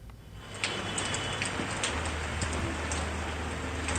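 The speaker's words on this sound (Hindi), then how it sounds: "7 बजे के बाद लगातार बारिश हो रही है और जोरदार बारिश हो रही है" Heavy, continuous rain falls in Poonch as a dense, even broadband patter with scattered drip ticks and a low rumble underneath, with no voices.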